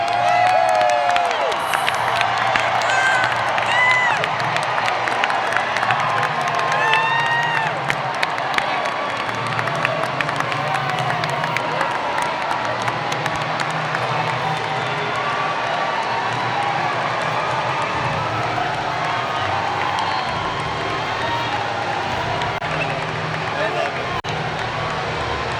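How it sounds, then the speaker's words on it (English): A large crowd at a Donald Trump rally in Tennessee roars and cheers continuously as the Trump plane passes overhead, with scattered shouts and clapping blending into a dense, sustained wall of noise throughout. "The Trump plane going by and the crowd going wild."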